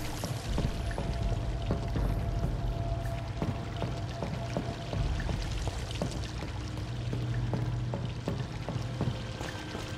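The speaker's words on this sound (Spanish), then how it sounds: "Sigue habiendo mucha agua." Steady flowing water runs throughout a scene in the game Vampyr, with scattered drips and small splashes over a continuous wash, fairly loud and close, with no talking.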